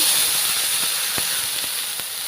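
Milk hits a hot pan of fried vermicelli on the stove, a steady bright hiss of sizzling close up with a few faint clicks and taps.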